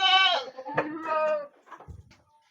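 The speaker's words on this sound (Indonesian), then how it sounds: "Ini kambing PI senduro juga ada." A Senduro goat bleats loudly up close, a couple of wavering, nasal calls in quick succession followed by faint rustling.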